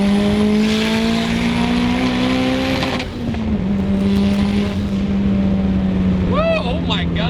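A 520 hp Hyundai Genesis Coupe 2.0T on RPF wheels with Brembo brakes accelerates hard, its loud rising engine note climbing through gears with a shift break midway, followed by whistling turbo and tire sounds.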